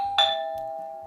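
Aqara Doorbell G4 chime ringtone: a short electronic two-note ding-dong, bright and close, with the second tone ringing on and fading gradually with no other sound.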